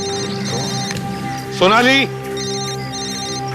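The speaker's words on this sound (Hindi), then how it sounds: "मोबाइल फोन भी वहीं से बज रहा है।" A mobile phone rings with a repeating electronic trill as a man calls out a name over it. A brief, louder warbling burst occurs midway, all over a steady tonal background.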